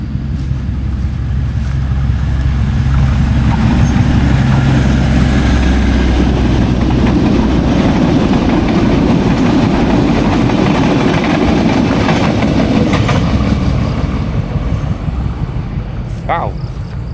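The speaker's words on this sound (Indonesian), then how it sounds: "Di depan kita ada kereta Pramek" Pramek passenger train passing close by, a loud steady rumble and rolling clatter filling the whole stretch, with a brief higher squeal near the end.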